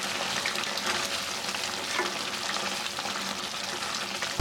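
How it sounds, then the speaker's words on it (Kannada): Chilli chicken masala with pepper powder, coriander powder and garam masala frying on a low flame, a dense even sizzle with steady stirring, close up and without voices. "ಗರಂ ಮಸಾಲ ಹಾಕಿ ಚೆನ್ನಾಗಿ ಮಿಕ್ಸ್ ಮಾಡ್ತೀನಿ"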